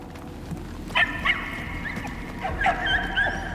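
A dog in Marvel's Guardians of the Galaxy video game gives a few short high whimpers and yips in two brief bursts, near and fairly clear over a low steady background hum.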